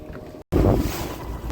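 A boat moving out on the sea off the Gujarat coast, with wind buffeting the microphone and a rushing wash of water, broken by a short drop to silence before the steady noise returns.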